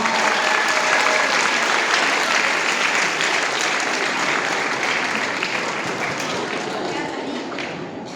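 Sustained audience applause at a youth Bible memorization recitation contest, a dense wash of many hands clapping close and loud throughout, slowly tapering near the end.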